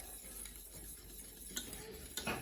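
A teaspoon stirs a pat of butter melting into cream in a pan with the gas turned off, a soft scraping with two sharper clinks near the end, quiet and close.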